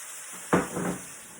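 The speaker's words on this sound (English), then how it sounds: "And then I'm going to add in my white wine" White wine poured into a hot pan of mushrooms hisses up in one brief, close sizzle that swells and then fades, with a steady quiet background and no talk.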